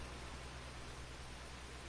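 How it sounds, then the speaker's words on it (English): Rain falls steadily in Farming Simulator 19, a constant faint hiss of dense drops with no breaks and no voices. "it started to rain just like this"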